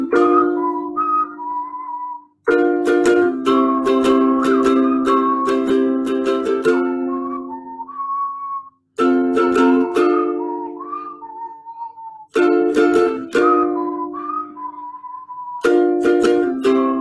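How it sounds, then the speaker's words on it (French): A whistled melody carries a music piece, with clear sustained and sliding tones over a steady accompaniment, played in repeated phrases separated by brief pauses. "dès qu'il commence à siffler, je me dis ah j'ai trouvé"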